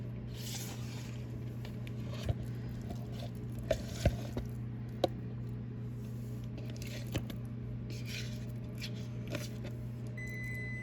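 Cooked pasta for baked ziti drained into a strainer, a soft continuous patter of water with a few small knocks and clicks over a low steady hum.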